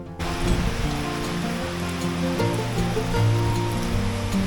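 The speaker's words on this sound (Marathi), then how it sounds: "आता पाऊस सुरू झालेला आहे" Steady rushing rain with a dense, even wash of noise and faint tonal sounds mixed underneath.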